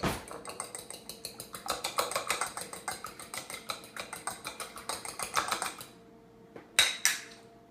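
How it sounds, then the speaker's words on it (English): A fork beats an egg with a teaspoon of vanilla, fast and even, clicking against the bowl in a close, brisk rattle. After a short pause come a couple of final sharp taps. "you're just going to beat that up quickly with a fork"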